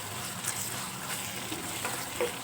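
Tomatoes frying in hot oil in a pan for tomato rice, a steady close sizzle and crackle with faint stirring scrapes, no voices.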